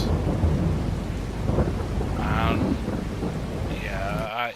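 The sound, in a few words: rain and thunder in the video game Farming Simulator 22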